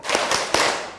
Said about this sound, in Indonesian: nanti kalian langsung sambut dengan tepukan